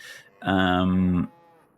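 A single cow moos once in Farming Simulator 25, a clear, close, sustained low call of about a second, with faint background sound before and after.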